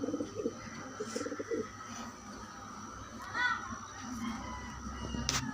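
Pigeons coo softly and intermittently in a loft, low murmuring calls repeating near and far over a steady background hum, with a brief higher chirp near the end.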